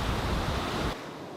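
Broadband wash of ocean surf at a seaside by a temple retreat, steady and fairly loud for about a second before dropping to a quieter hiss, with no voices.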